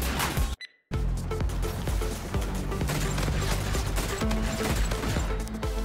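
The R-VN gun in Infinite Warfare fires rapid, dense automatic bursts that are loud and continuous, with only a brief pause near the start, amid mechanical clatter.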